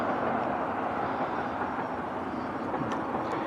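Constant low roar of a freight train passing through Charlton, Australia, heard at a moderate distance, with faint metallic squeaks near the end.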